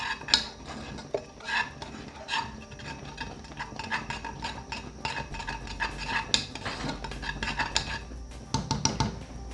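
Custard being stirred in a pot on a stove, a utensil scraping and clinking steadily against the metal with irregular rattles throughout, close and moderately loud, with no talking.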